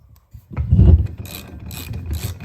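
A hand ratchet drives 15mm bolts through a bracket into the block during an AMP BedStep install on a 2022 Ford F-350 Super Duty Tremor. Short bursts of close metallic clicking come in a quick, uneven rhythm with no voices.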